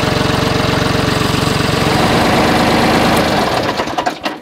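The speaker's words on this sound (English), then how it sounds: "you can tell by the sound of the tractor of like what is going on" A steady tractor engine chugs with a rapid, regular knock at a loud, close level, then sputters and cuts out near the end.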